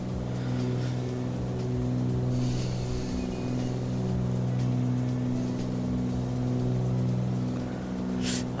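A car engine labours uphill in low gear, a steady strained drone with deep harmonic hum that holds close and loud throughout, with no talk over it.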